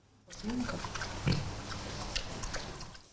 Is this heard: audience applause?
no